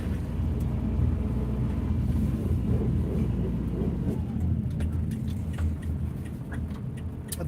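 A camper van being test-driven slowly around a bend gives off a steady low engine and road rumble, with faint ticking and rattles on top, close and continuous.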